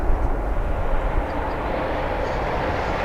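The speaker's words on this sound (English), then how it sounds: "the best views of the planes as they come into land" A plane comes in to land at Philadelphia International Airport, a steady, loud broadband jet roar that holds evenly throughout with no voices.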